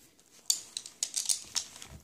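A watercolor pencil scratches and taps on paper in short, close, crisp strokes, several quick marks over a couple of seconds with no talking.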